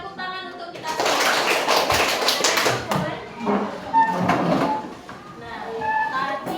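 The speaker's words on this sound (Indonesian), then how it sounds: "tepuk tangan untuk kita semua" A classroom group claps hands together in a burst of dense, rapid clapping for a few seconds, followed by a teacher's voice talking with lighter claps in the background.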